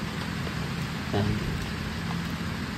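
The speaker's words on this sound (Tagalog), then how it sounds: "dahil umaambon dito sa itaas" Light drizzle falls on a mountaintop tree-house build site, giving a steady, soft hiss of fine rain with a brief knock partway through.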